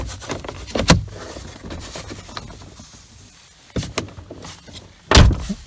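Ford Fiesta Mk6 car door handled during interior trim work: sharp thunks and clunks at the start, middle and end, the last the loudest, with quieter rattling between.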